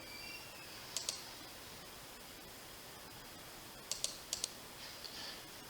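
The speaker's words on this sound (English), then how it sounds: "we'll click OK." A few quiet clicks from a computer mouse, in two short pairs and a small cluster a few seconds apart, faint above a steady hiss with no talk.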